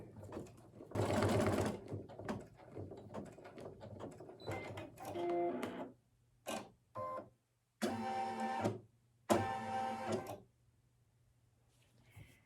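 An embroidery machine stitches an outline on a fabric Christmas ornament, a close rapid mechanical whirring in several bursts separated by short pauses and quiet gaps.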